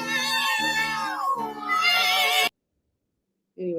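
Pet cats meowing in long, drawn-out, wavering cries that blend together loudly, then a pause and another short meow.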